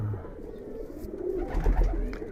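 Giribaz pigeons coo in low, rounded throaty rolls, close and fairly steady, with some handling rustle and bumps beneath.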